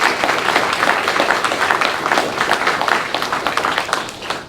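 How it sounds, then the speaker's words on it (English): Applause from a city council meeting audience, a steady wash of many hands clapping at moderate loudness throughout, with faint voices mixed in. "I'd like to give them a round of applause"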